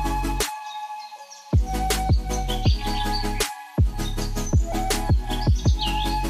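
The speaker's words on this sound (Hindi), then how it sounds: "यहाँ आपको 2 रंग बिरंगे तोते देखने को मिलेंगे।" Colourful parrots in a zoo aviary give loud, close, repeated chirps and sharp tweets, calling in quick succession over a steady buzzing background.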